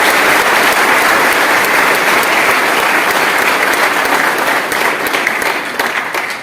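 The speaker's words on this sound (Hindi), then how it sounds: "मेरे भाई आकाश के लिए भी तालियों की गड़गड़ाहट बने।" Loud, sustained thunder of audience applause fills the hall, dense and unbroken before easing slightly at the end.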